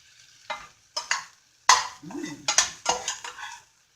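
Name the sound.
apple mixture sautéing in a pan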